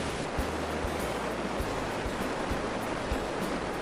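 Rayap waterfall in Desa Sidomulyo, Kutamakmur, Aceh Utara, heard as a steady, dense rush of falling water with no break, even in level and fairly soft.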